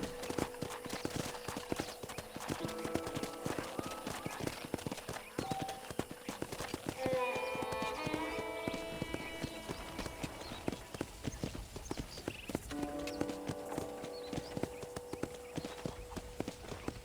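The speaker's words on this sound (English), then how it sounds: "let's see if you can still ride a horse" Hooves clip-clop steadily and continuously as a horse trots in the video game Red Dead Redemption, with a horse whinnying partway through and voices talking over the hoofbeats.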